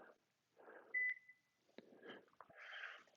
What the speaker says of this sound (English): So I'm going to start my Tabata timer.